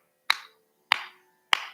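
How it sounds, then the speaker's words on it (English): Three sharp hand claps spaced evenly about 0.6 seconds apart, each a crisp bright snap with a short decay, alone in a quiet room, demonstrating a steady rhythmic interval. "If I'm going to clap like this,"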